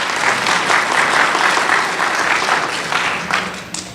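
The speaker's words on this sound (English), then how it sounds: "Y'all give them a round of applause" A church congregation breaks into a round of applause, dense clapping that swells early and gradually thins out, with a few louder claps near the end.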